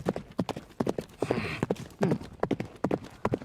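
Two horses gallop hard in a cross-country horse race, their hooves beating out a fast, steady clip-clop rhythm of sharp, close, repeated thuds, with a brief rush of noise midway.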